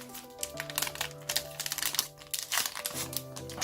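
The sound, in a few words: opening a Japanese trading card booster pack wrapper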